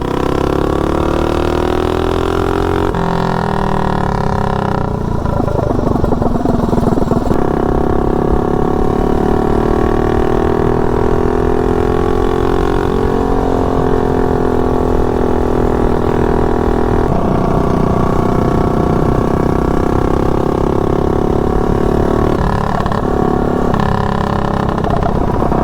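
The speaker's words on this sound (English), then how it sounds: "Yeah, it gets the speed quick." A Rascal GT drag mini bike engine runs steadily up close and loud, holding an even drone with a few shifts in revs and brief dips along the way, and no talking.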